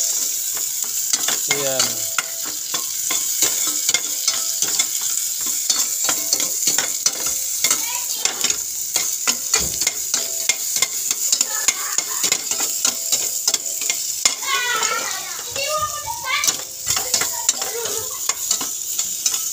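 Onions being stir-fried in a pan for Bisaya-style chicken adobo, with constant loud sizzling and repeated spatula scrapes and clatter close up, and a brief spoken word.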